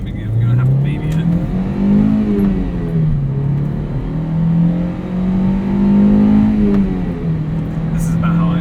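A 2003 Toyota MR-2 Spyder with a six-speed manual pulls hard through the gears, its engine note rising steadily, dropping at shifts and climbing again, loud and continuous from inside the cabin.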